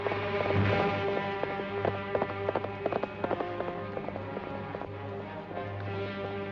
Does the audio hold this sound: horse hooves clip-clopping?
yes